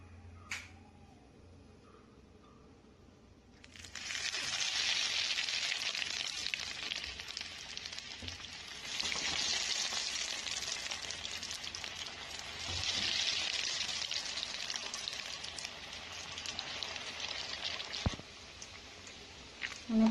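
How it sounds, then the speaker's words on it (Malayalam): Tapioca cutlets frying in oil on a medium flame, a quiet start giving way to a steady crackling sizzle that swells in waves and continues throughout, with no speech. "അതുകൊണ്ട് മീഡിയം ഫ്ലെയിമിൽ ഇട്ടിട്ട് ഓരോ കട്ട്ലറ്റ് ഇതിലേക്ക് ഇട്ട് കൊടുക്കാം."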